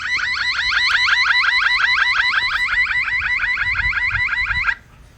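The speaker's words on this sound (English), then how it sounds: "We also can turn on the alarm" Nooie smart video doorbell siren blares loud and continuous, a rapid warbling alarm pulsing evenly for nearly five seconds before cutting off abruptly into quiet.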